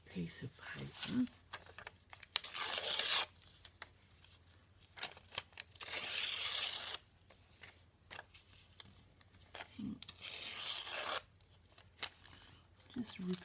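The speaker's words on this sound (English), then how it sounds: "Just ripping it." Paper torn by hand in bursts for a flippy floppy book, with wet glue making it crinkly; several close, loud ripping passes alternate with quieter stretches, mixed with a person talking between the tears.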